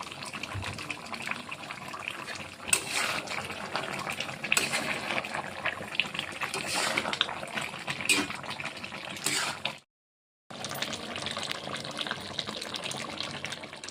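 Water pouring steadily into a pot of chicken leg-piece curry, a continuous splashing gush that runs for several seconds, pauses briefly, then resumes, with no talk.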